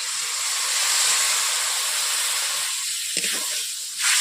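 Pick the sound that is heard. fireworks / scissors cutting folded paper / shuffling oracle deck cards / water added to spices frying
water added to spices frying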